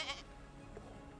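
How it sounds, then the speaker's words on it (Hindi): A single short goat bleat sounds near at the start, a quick nasal cry, followed by low background rumble in an animated holiday scene. "ये बकरे की आवाज कहाँ से आई?"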